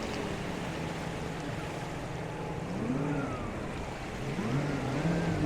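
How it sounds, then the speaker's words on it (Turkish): Distant motorboat engine revving at full throttle off Koh Larn near Pattaya, Thailand, a faint droning whine that rises and falls over steady wind and surf. "Motorun birisi tam gaz basıyor gaz ama ne yapıyor onu bilmiyorum."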